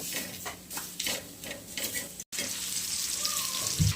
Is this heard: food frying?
yes